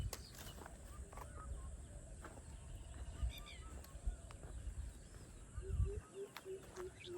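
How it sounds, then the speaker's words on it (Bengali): Morning birdsong in a village beside a large fishery: scattered chirps and calls, some goose-like honks, sounding fairly distant and soft over a low outdoor rumble, with no talking. "দেখো পাখির আওয়াজ কিভাবে হয়।"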